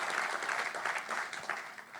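A church congregation applauds together in a steady, dense wash of clapping that fills the space for a couple of seconds without pause.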